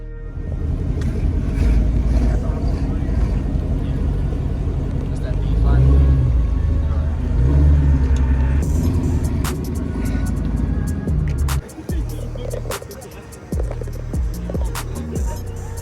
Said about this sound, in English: They pulling up left and right in them Hellcat.